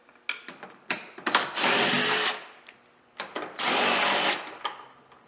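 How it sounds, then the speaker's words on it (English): A power tool fitted with a 10mm socket spins out bolts holding a 2016 Jeep Trailhawk fender to its support, giving two long whirring runs between short bursts and clicks, close and alone. "With a 10mm socket, remove 4 bolts that secure the fender to the support."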